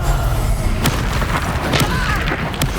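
A Confringo fire spell blasts in Hogwarts Legacy, booming explosive bursts and thuds landing repeatedly over a dense, loud wash of combat noise.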